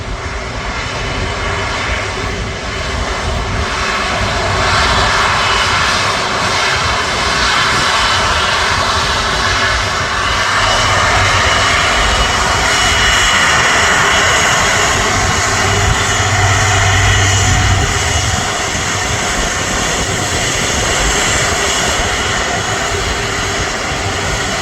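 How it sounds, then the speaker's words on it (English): An Airbus A380 jet airliner departs Manchester Airport, its engines a loud, steady broadband roar that holds for the whole stretch, swelling slightly midway, with no voices. "the A380 makes its way out with the Journey to the Future livery on"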